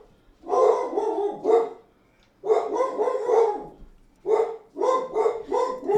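A dog named Indiana barks excitedly at an Amazon package delivery, close and loud, in three bursts of rapid repeated barks separated by short pauses.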